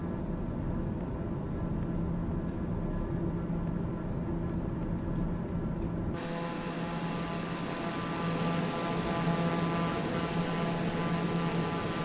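A small plane's engine in Microsoft Flight Simulator powering up, a steady droning hum that jumps abruptly into a louder, brighter roar midway and stays high.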